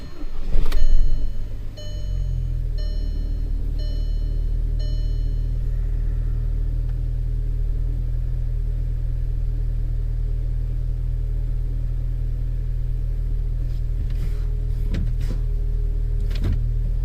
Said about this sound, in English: See what happens if we start the car up.